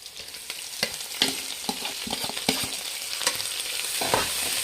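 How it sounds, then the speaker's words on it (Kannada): Chopped onions and greens frying in oil in a pan, a steady sizzle broken by repeated scraping and clacking stirs of a spoon, close and without talk. "ಚೆನ್ನಾಗಿ ಫ್ರೈ ಮಾಡಬೇಕು ಫ್ರೆಂಡ್ಸ್ ಎಣ್ಣೆಯಲ್ಲಿ"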